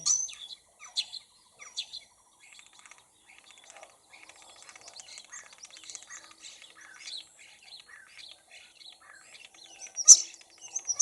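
Small birds chirp and tweet in short, high, scattered bursts, faint and sparse against near silence, with a brighter call near the end.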